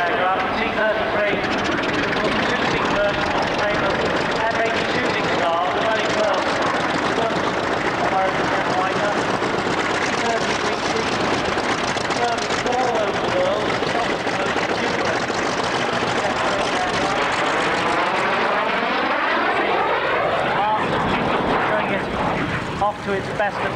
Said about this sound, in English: One of the early jet aircraft, T33.